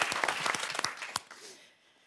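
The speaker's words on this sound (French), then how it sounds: "on vous applaudit quand même, Rachel et David." Studio audience applause on a French television game show, a dense burst of clapping that fades out over about two seconds.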